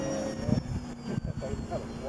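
A Parkzone RC model airplane, a Corsair or T-28, flying by with a thin steady motor whine, moderately near, while people talk over it.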